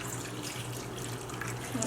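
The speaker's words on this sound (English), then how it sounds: "Just a little bit of water." Water runs steadily into a cooking pot already holding raisins and pumpkin pie spice, a continuous close splashing rush lasting about two seconds.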